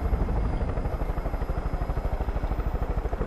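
Helicopter flying in Far Cry 5, a close, steady rotor thump beating in a fast regular rhythm over a constant turbine whine.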